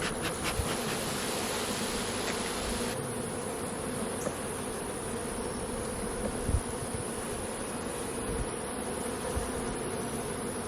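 Honey bees buzz steadily around hive boxes during an early honey harvest, a dense, continuous droning swarm that stays close and loud throughout, with a few brief knocks and clunks of the boxes.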